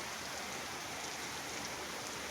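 Heavy rain pours down in a steady, dense hiss that stays unbroken and even throughout, with no voices over it.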